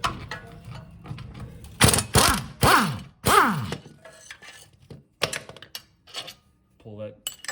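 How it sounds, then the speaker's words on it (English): Impact wrench spinning the single 5/8 clutch bolt off the crankshaft of a John Deere LA145 lawn tractor, a few short loud rattling bursts close by with clanks of metal between them. "I like to use an impact, which is the 5/8. Right there, it's just one bolt."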